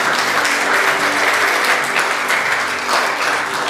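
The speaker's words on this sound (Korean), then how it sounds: "박수로 환영하며 드리겠습니다" Church congregation applauding loudly, dense steady clapping from many hands filling the room throughout.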